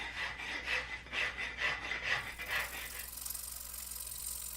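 Rhythmic rasping strokes of sanding against wood, about six back-and-forth passes, close by, then a softer steady hiss, while restoring an old axe.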